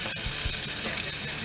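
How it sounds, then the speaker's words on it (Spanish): Running water pours steadily in the background of a live radio broadcast, a constant splashing hiss with no voices over it. "Del agua, sí, el sonido del agua."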